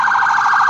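An ambulance siren wails in a brief, loud, steady electronic tone on a city street.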